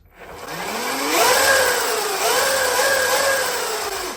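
Cunfon M200 electric bike hub motor spinning after a 60V conversion, a loud close whine that rises in pitch, dips, and climbs again over a steady hum, with no talking.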